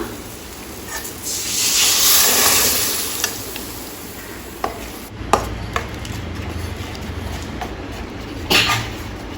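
A wet sizzle swells as ground masala for a fish curry is poured into a hot pan, then settles into a steady hiss punctuated by a few utensil knocks.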